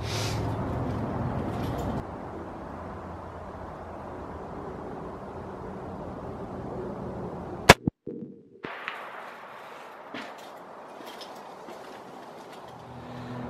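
.300 Weatherby Magnum rifle at outdoor target practice: one sharp, loud shot cracks out amid quiet wind-like background, followed by a few smaller clanks and knocks.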